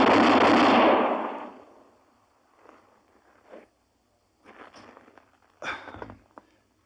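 Revolver shots fired at bullseye targets in a frontier-era radio drama: one loud blast with a long fading tail, then a few fainter, sharp cracks spaced out over the following seconds.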